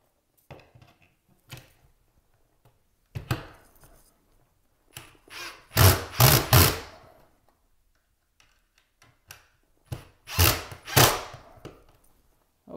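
A drill drives a screw into a wooden wall stud in two short bursts of whirring, separated by quiet gaps with scattered taps and clicks, close by and with no talking.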